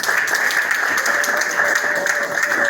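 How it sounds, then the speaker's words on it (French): Steady audience applause at a special-edition prize ceremony in Matadi, a continuous wash of clapping with a sustained tone running beneath it. "applaudissez s'il vous plaît"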